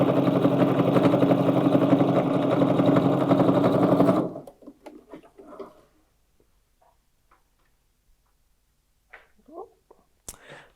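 A sewing machine top stitches a long-stitch seam across a fabric tote bag, running loud and steady for about four seconds before stopping, followed by faint handling noises and quiet movement.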